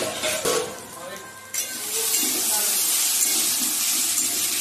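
Potatoes frying in a pan give a steady, close sizzling hiss that grows fuller after the first second and a half, with a voice briefly heard at the start.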